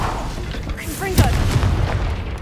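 The Confringo blasting spell in Hogwarts Legacy sounds as a single booming impact with a sharp crack and low thud, set among whooshing spell effects and faint game ambience.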